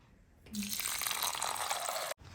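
Water pours steadily for about two seconds, a bright continuous splashing that cuts off abruptly near the end.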